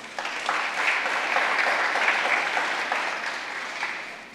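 Sustained applause from a church congregation, steady clapping that holds for several seconds before tapering slightly at the end.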